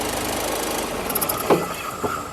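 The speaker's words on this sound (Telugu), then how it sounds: "సింగిల్ సెల్ఫ్లో కార్ స్టార్ట్ అవుతుంది" A 2016 Ford EcoSport Trendline engine starts and runs with a steady, rough mechanical drone, with a couple of short thumps near the end, fairly close.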